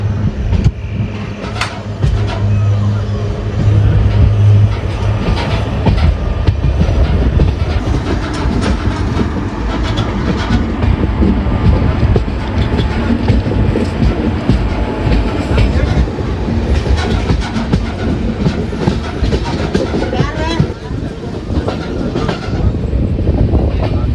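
The Amaravati Express, Vasco-da-Gama to Shalimar, rolls toward Gadag Junction, heard from on board as a loud, continuous rumble with rhythmic clickety-clack of wheels over rail joints throughout.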